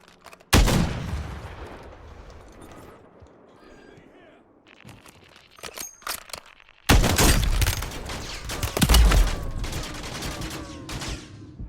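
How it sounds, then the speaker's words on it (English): Shooter video game gunfire in a Plunder match with a riot shield and a sniper rifle: a sharp loud blast opens, then scattered shots, then a heavy sustained fusillade of rapid gunfire near and loud, with a voice talking underneath at times. "you don't even know the shot I just did"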